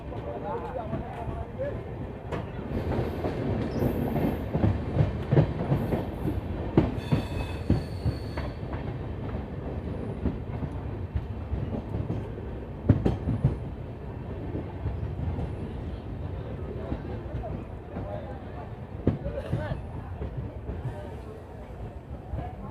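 Heard from inside a general-class coach of the Uttarbanga Express 13148, the train runs on its rails with a steady rumble, rattling clatter and occasional wheel squeals, while people talk nearby.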